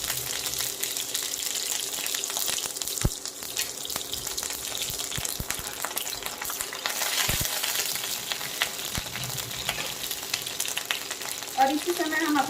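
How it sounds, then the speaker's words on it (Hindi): Mustard seeds and curry leaves tempering in hot oil for masala idli, a continuous sizzle with faint crackles and scattered pops, close up and without speech. "ये सरसों हम फोरन में इस्तेमाल करेंगे। तो फोरन डाल दिया।"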